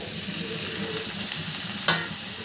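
Drumstick and tomato curry stirred in a pan with turmeric, giving a steady close sizzle and soft scraping, with one sharp clink of the utensil near the end.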